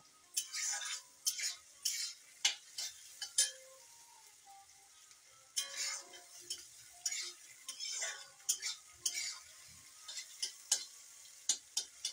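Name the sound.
onions frying in a pan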